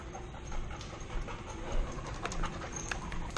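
A dog panting quickly and rhythmically at close range indoors, soft and steady with light shuffling around it.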